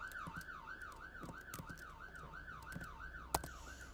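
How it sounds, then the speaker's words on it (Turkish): Police car sirens from the Roblox Brookhaven roleplay game wail in a steady, rapid up-and-down cycle, loud and continuous throughout, with a brief sharp click near the end. "Bu polis sesleri nereden geliyor? Ha ne oluyor? Polis bey. Sirenleri kapatır mısınız? Rahatsız oluyorum."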